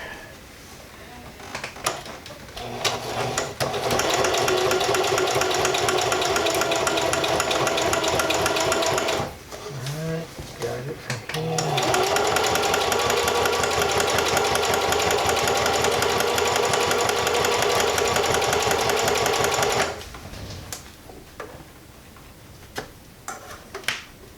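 Sewing machine stitching a Mazda Miata shift boot in two long, loud, steady whirring runs broken by a short pause, with scattered clicks and handling noise before and after.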